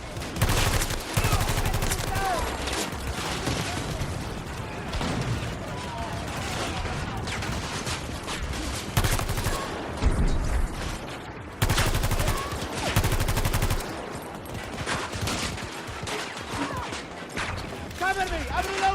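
Rapid automatic gunfire in a shooter video game, weapon with a 740 fire rate, loud and near in long sustained bursts with brief pauses, mixed with game sounds and occasional talk.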